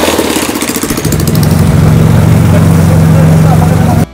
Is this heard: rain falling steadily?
no